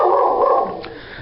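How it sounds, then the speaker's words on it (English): A dog barks excitedly indoors, a loud burst of a few quick barks that tails off into quieter sound, with no voices. "Hopefully you can hear me over the dog barking."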